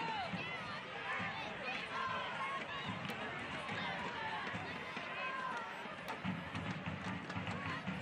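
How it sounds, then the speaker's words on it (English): A home crowd roars steadily for the Rhinos at Capelli Sports Stadium during a soccer match, a continuous broad wash of noise with a commentator talking over it throughout. "The home crowd urging on the Rhinos here at Capelli Sports Stadium"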